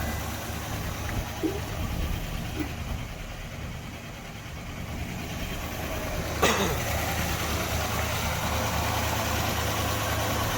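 A cold 1964 Dodge 440 sedan engine idles with a steady low hum at moderate distance, broken by a single sharp click near the middle.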